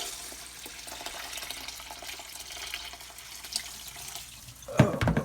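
Water sprayer running over a container of wild bird seed, a steady hiss of spray that turns to a louder splashing burst near the end.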